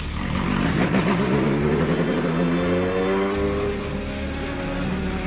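Alpine Le Mans prototype race car in blue and orange livery, its engine roaring loud and close on track during testing, pitch climbing steadily with harmonic whine as it accelerates through gears.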